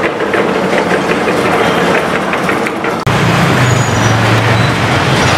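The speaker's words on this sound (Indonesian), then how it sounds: "ini banyak kendaraan" Steady roar of many vehicles moving through a crowded parking area at the Senen dawn market in Jakarta, loud and continuous with engine rumble and a low idling hum setting in partway through.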